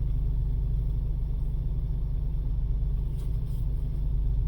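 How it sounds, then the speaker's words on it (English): A vehicle climbs a rutted ridge-top hill, its engine a steady low rumble that stays loud and close throughout with no voices. "Coming up that hill, straddling those ruts, kind of pinpoint driving there."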